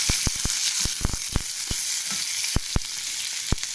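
Potato and cauliflower fry in a pan with a steady, dense sizzling hiss, broken by sharp clicks and taps of a utensil at irregular intervals.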